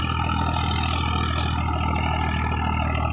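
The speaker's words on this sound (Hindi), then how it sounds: "देखिए क्या शानदार आवाज़ है, आवाज़ बहुत बढ़िया ट्रैक्टर की" A Swaraj 744 FE tractor runs steadily in a farm field, pulling a 7-foot Fieldking rotavator, its engine giving a continuous, loud, low drone with no breaks and no voices.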